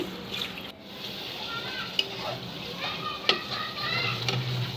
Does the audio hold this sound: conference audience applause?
no